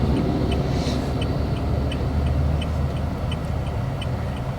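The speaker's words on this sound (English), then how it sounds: "a lot of coal trucks passing through here." Coal trucks rolling along a road through the coalfield town of Coeburn, Virginia, a steady loud engine and tire rumble with a faint regular ticking on top, continuous with no speech.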